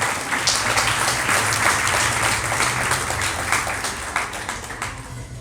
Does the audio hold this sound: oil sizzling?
no